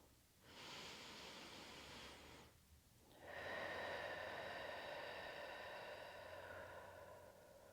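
Two long, deep breaths held in a yoga squat pose, a hissy inhale then a longer and louder airy exhale, close and quiet with no talking.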